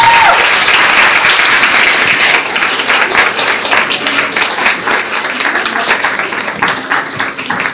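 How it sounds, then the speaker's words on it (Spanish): An audience at a beauty bloggers awards event applauds loudly, a dense roar of clapping that thins into more distinct, rhythmic individual claps as it continues. "Por favor, un fuerte aplauso para Enrique Covarrubias."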